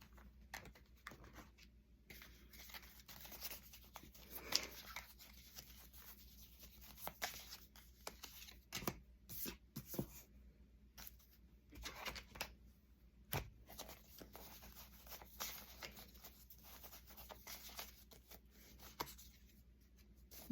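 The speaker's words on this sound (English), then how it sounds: "So I'm pulling some astrology cards here and then some timing." Astrology cards are handled and pulled, giving soft, scattered shuffling, sliding and tapping that stays faint and close throughout with no talk.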